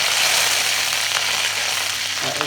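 Mustard and fenugreek seeds sizzling in hot oil for an amchur curd greens dish, a loud, close, steady crackling fry with faint pops throughout.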